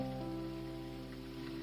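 Steady rain falls and patters outdoors in a soft, even hiss, with no voices over it.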